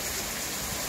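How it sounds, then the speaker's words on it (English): Steady rain falling outside a house, a dense continuous hiss of drops spread evenly across the moment with no talk over it. "just listening to the rainfall like this"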